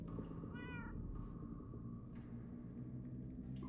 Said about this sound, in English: I hear cats.